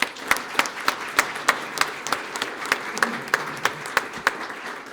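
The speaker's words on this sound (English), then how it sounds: "Mayor Liz Alpert, let's give her a round of applause" An audience applauds Mayor Liz Alpert at a Sarasota Police swearing-in ceremony, with several sharp, distinct claps standing out above a steady wash of clapping.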